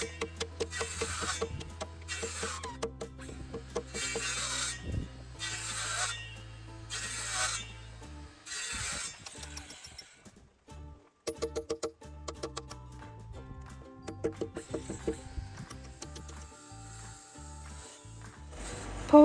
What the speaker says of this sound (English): Paul uses the chisel and the mallet or a hammer to basically remove all the excess wood in between the two markings